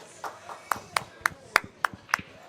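One person clapping slowly at an 8-ball pool championship match, about seven crisp, evenly spaced claps, close and distinct against a quiet room.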